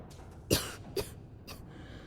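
Three harsh coughs in a row from a character in the video game Starfield, the first loudest, the later two shorter and weaker, close and clear with no talking.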